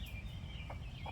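Faint clucking and soft calls from young chickens being integrated into a small backyard flock, brief and quiet against a low background hum.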